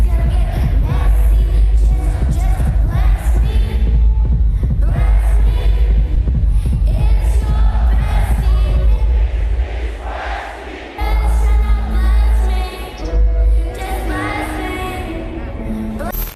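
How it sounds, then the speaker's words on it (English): A live concert crowd sings and chants along, a loud, dense mass of voices over booming, pounding music that thins briefly near the eleven-second mark before surging back. "this was the best crowd we've seen live so far, with them singing and chanting along to at least some parts of basically every song played"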